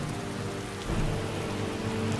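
Steady rain falls in Skyrim, a continuous even hiss of drops on surfaces with a faint low rumble underneath, heard alone without speech.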